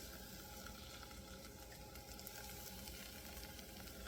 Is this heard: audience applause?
no